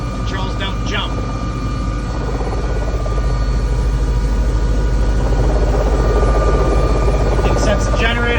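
Bell 407 helicopter during engine start and systems check, a loud steady low turbine rumble with rising whine and faint beeping cockpit tones layered on top.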